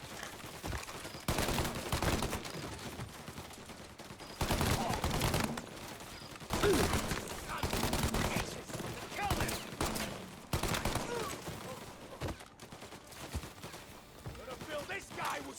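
Gunfire in the Mafia: Definitive Edition video game comes as repeated loud bursts and single shots echoing through an alley, irregularly spaced over a steady background din.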